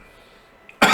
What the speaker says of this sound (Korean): 그래 기침이 나